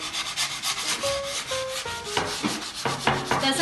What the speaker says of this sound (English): we're just gonna take this little sanding block and a very light grit sandpaper, any sandpaper would do, like a 220